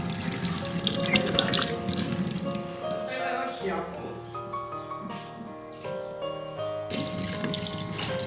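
Tap water runs into a sink while fresh oysters are scrubbed clean, a steady close splash with clinks of shells, and a person talks over it for much of the time.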